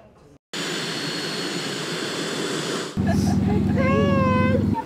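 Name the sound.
aircraft flying at the Gator Fly-In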